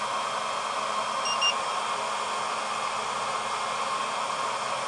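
The cooling fan of an ISDT FD-100 LiPo battery discharger blows a steady, loud airy whoosh, with a couple of faint high electronic beeps partway through.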